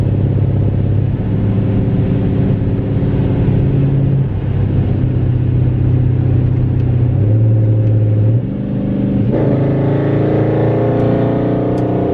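A 2013 Dodge Charger R/T AWD fitted with a Pedal Commander throttle controller accelerates from inside the cabin, its loud, steady engine drone rising through gear changes over about twelve seconds.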